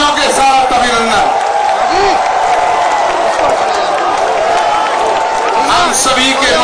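A large crowd at a Dussehra Ravan Dahan event in Dwarka welcomes PM Modi with steady, loud applause and cheering. The roar is continuous and dense, with shouts and whoops mixed in and no pauses.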